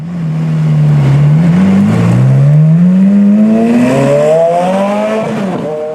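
A Ferrari race car engine drones loudly near 2,000 RPM, a deep harmonic roar that climbs steadily in pitch as the car pulls along the street, continuous and up close with no voices.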